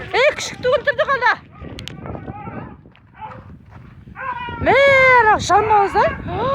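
Dogs barking and whimpering during a wolf attack on a farm at night, loud close yelps and strained whines in bursts, with someone shouting over them.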